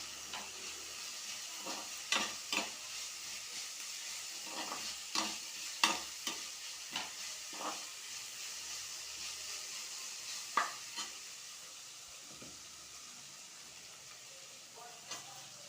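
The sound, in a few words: ginger and garlic frying in a pan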